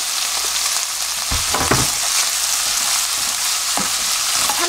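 Tuna fried rice sizzling and being stir-fried in a pan with soy sauce and oligosaccharide syrup, a loud continuous hiss broken by a few scraping, stirring knocks, close up.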